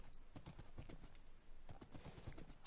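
A horse in the Minecraft modpack Feed The Beast Beyond trots over wooden paths, its hooves clip-clopping in a quick, steady rhythm, quiet and close with no talking.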